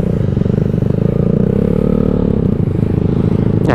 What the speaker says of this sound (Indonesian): Cumpah ini suara motor.